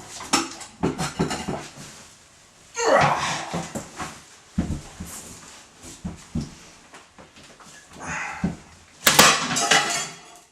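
A stuck porcelain toilet being wrenched off the floor of an old house, with heavy scraping, clunks and sharp ceramic cracks and clatters in several bursts, close and loud, with no voices.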